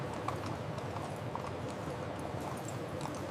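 Horses walk at a steady pace with a continuous clip-clop of hooves, heard close and even throughout against a constant background rumble.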